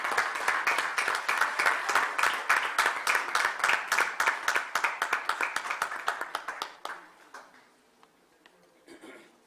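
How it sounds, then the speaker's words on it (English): An audience at an international workshop on heatwaves claps, giving dense rhythmic applause for about seven seconds that then thins out into a few scattered claps. "Can we have a round of applause,"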